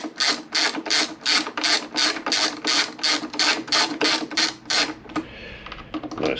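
A ratchet turns the screws holding the seat unit on a Honda VFR800 VTEC motorcycle. It makes a steady run of about a dozen evenly spaced, close, loud clicking bursts, then stops and leaves a quieter, rustling tail.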